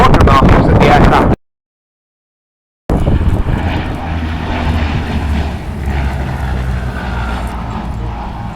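A Blenheim bomber's piston engines drone with a loud, steady propeller roar from close by. The roar is broken by a brief dropout near the start, and wind buffets the microphone.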